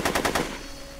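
Gunfire in the Back to the Future video game: a quick burst of four rapid shots in the first half-second, then a fading tail over steady background game sound.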